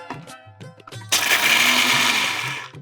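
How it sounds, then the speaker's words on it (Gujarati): A mixer grinder whirs into loud, steady high-speed grinding, turning half a cup of peanuts to powder, and runs on close by after a short start. "તો 1/2 કપ જેટલી શીંગ લઈએ મિક્સરમાં અને નાખીને પાવડર કરી લઈએ"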